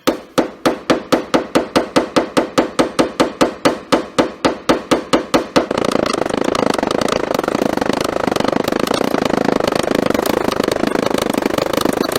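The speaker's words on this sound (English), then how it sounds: "And we're going to tap that down. You take your hammer." Rapid metallic hammer taps on a dent in a car body in a steady rhythm for several seconds, then a loud, continuous engine-like roar takes over.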